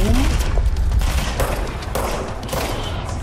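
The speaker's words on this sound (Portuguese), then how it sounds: "Tô carregando a arma aqui pra dar um tiro concentrado pra matar com uma." A charged-up weapon shot in the action video game Control, heard as dense, loud gunfire bursts and booming impacts that run continuously and close up, with a thick crackling texture throughout.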